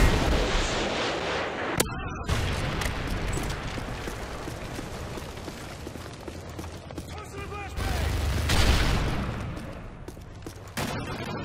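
A Predator missile strike in Call of Duty, heavy booming impact and rumbling explosion amid ongoing gunfire, loud and near, with a voice speaking over the battle noise.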